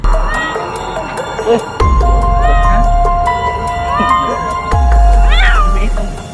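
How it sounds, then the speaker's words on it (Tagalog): A cat meows several times close by, drawn-out wavering cries over a steady low hum and background noise, with some faint human sounds in the mix. "Kawawang pusa to."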